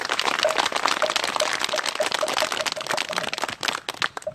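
Audience clapping at a Korean Buddhist dharma ceremony for a monk, a dense sustained burst of many hands, loud and even, with a faint tonal sound running beneath.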